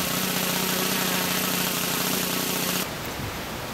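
A Saito 1.00 GK model engine on break-in runs rich, a loud, dense, high-revving drone close up that drops abruptly to a lower level near the end as the tank runs out.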